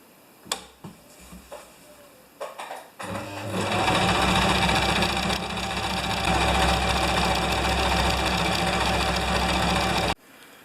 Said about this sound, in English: First I'm going to stitch like a zigzag so it doesn't get too frayed.